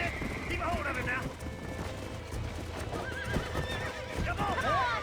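Wild horse in Red Dead Redemption neighing and whinnying over hoof clip-clop, several shrill whinnies rising above a busy game soundscape, with a voice speaking throughout.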